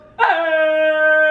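A dog lets out a single sharp, close yelp that stretches into a sustained whining howl, loud and alone for about a second.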